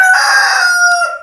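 A rooster crows loudly and close inside a barn, one sustained, bright call that holds steady before trailing off at the end.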